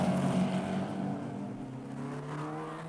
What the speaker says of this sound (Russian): Волнующий чудный запах, волнующий чудный шум моторов